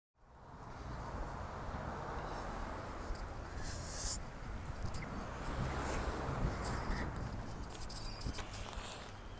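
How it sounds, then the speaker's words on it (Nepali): Cold wind blows outdoors in a rough, gusting rush against the microphone, fairly faint but continuous, with a few brighter swells along the way. "चिसो हावा चलिरहेछ"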